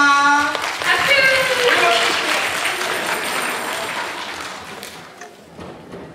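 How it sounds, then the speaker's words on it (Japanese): Applause from an audience, many hands clapping steadily and fading out after a few seconds, with a voice briefly heard at the start. "拍手。"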